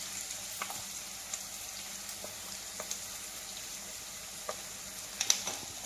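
Onion pieces frying in a pan for a ridge gourd and dried prawn curry, with green chili pieces already in, give a steady soft sizzle with a few faint clinks and stirring sounds, no talking.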